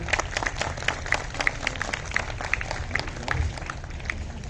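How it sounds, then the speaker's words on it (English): Audience applause at an annual school prize distribution ceremony, as a guest is invited on stage to hand out trophies; a spread of distinct claps rings out steadily over low rumble, moderately distant, without speech. "A huge round of applause for Mr. Shoaib Iqbal."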